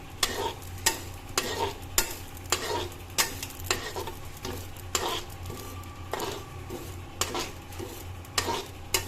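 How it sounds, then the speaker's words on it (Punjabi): Poppy seeds roast in a pan under a soft, steady sizzle while a spoon stirs and scrapes against the metal in regular strokes about every second, close by and without talk. "ਇਹ ਆਪਾਂ ਪਾਈਏ ਖਸਖਸ ਇਹਨੂੰ ਵੀ ਬਸ ਰੋਸਟ ਕਰ ਲੈਣਾ"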